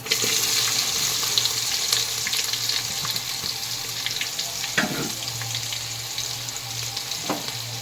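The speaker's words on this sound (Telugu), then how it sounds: "ఇప్పుడు ఆయిల్ హీటాక సన్నగా తరుక్కున్న ఆనియన్స్ వేసుకుందాం." Finely sliced onions dropped into hot oil with whole garam masala for fish pulusu, a loud, steady sizzle and crackle close by with occasional sharper pops and a low background hum.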